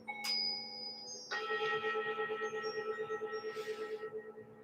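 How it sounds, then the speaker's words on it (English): Bells ring out clearly, a struck tone followed by a second strike, with long shimmering, pulsing resonance that slowly fades. "use the sound of the bells to bring you back to the present moment"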